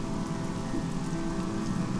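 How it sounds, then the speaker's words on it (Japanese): Rain falls steadily in the video game Child of Light, a soft continuous patter of raindrops over a low ambient backdrop, even and unbroken, with no voices over it. "雨が降ってる。"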